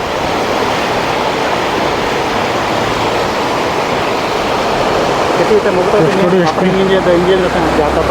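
Water rushing at a newly built dam beside a river near Ooty, a steady broadband roar filling the whole stretch, with a voice speaking faintly over it toward the end.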